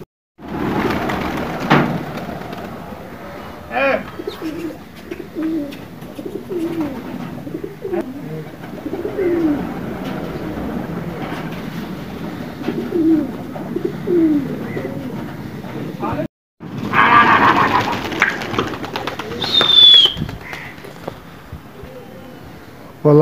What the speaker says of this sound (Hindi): शबीर भाई ने कबूतर खोलने में दाना डाल रहे, अभी चोगा देख सकते।